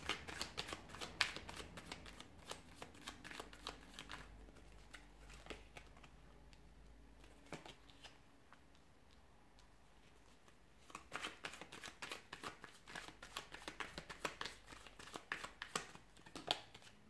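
Tarot cards being shuffled by hand, a close, soft, continuous flutter of riffling and sliding card stock with brief quieter pauses before the crisp shuffling picks up again.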